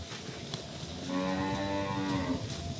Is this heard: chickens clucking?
no